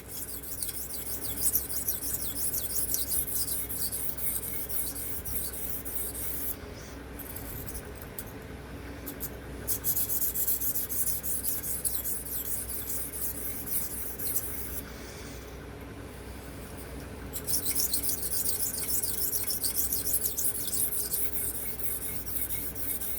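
A Remington Barlow knife blade scrapes rhythmically across a Gritomatic 600 grit sharpening stone, soft repeated rasping strokes close by, pausing twice in the middle.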